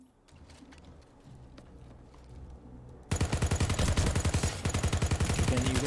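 Rapid automatic weapon fire in the Planetside 2 video game, starting abruptly after a quieter stretch of ambient clatter and continuing as a loud, evenly spaced stream of shots to the end.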